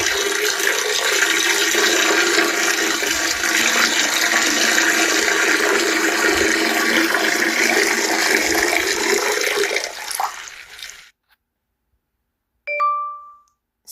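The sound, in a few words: urinating in toilet sound effect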